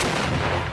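Gunfire sounds after an order to fire, a loud dense volley of shots blurring into one continuous roar, close and brief, without talk.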